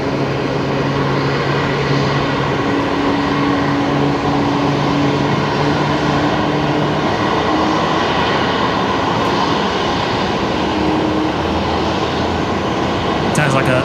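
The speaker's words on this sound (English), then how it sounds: "Sounds like a Max 8 on startup, if I've ever heard one." A Boeing 737 MAX 8 jet engine spins up at an airport, giving a dense, steady roar with a faint low hum that fades, heard from a moderate distance throughout.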